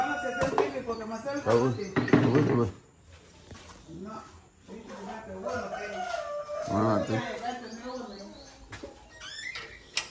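A rooster crows loudly near the start and chickens cluck around a rural community poultry yard. People talk over and between the bird calls.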